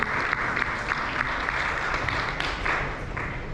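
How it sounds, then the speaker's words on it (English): Steady applause from a crowd, dense overlapping claps filling the whole stretch without a break. "Give a round of applause to the amazing panelists"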